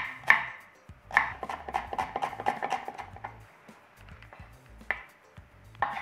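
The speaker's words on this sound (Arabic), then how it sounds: "بصلة متوسطة بدي أقطعها جوانح" A medium onion chopped into slices on a board, a knife striking in a quick run of sharp chops, then a pause and a few more isolated cuts, close and fairly quiet.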